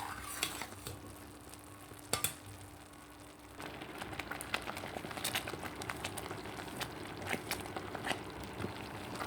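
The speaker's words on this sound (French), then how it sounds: "Faut bien mélanger votre confiture jusqu'à, vous voyez, elle devient petit à petit épaisse." A spoon scrapes and knocks around a pot of thickening date jam, irregular close clinks and scrapes over a soft bubbling simmer, with no voices.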